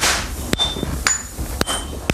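Large hammers strike red-hot iron at a traditional sword forge in Kamakura, four loud ringing metallic blows spaced about half a second apart, each with a bright lingering ping.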